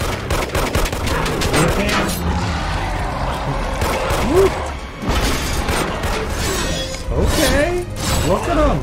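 Loud cannon blasts and gunfire from a battle scene in The Incredible Hulk, booming shots and crashing effects filling the clip while viewers talk and react excitedly over it.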